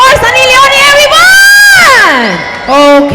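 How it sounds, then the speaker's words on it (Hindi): A loud, close audience at a Hindi film promotion event cheers for Sunny Leone, with long rising and falling whoops and shouts that fade, then swell again at the end. "जोरदार तालियां हो जाए for Sunny Leone, everyone!"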